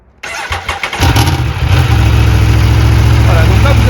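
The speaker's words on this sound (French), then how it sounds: "vas-y, démarre-nous ta moto." Aprilia Tuono V4 motorcycle with its stock exhaust starting up, a brief starter whir catching into a loud, deep V4 rumble that settles into a steady idle, close by.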